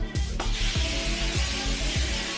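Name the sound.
olive oil cooking spray sprayed onto a cookie sheet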